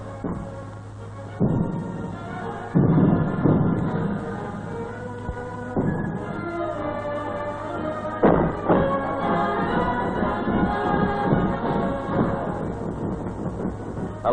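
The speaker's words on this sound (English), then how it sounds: "An observation post officer corrects the fire of his guns." Royal Australian Artillery guns firing: several heavy booms spaced a few seconds apart over a steady low hum, each trailing off in a rolling rumble.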